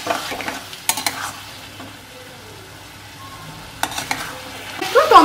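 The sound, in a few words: stirring and frying spice paste in a pan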